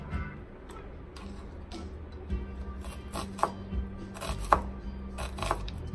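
Yellow onion being chopped on a cutting board for turkey salad, a series of light, quick knife taps in uneven clusters over a low background hum.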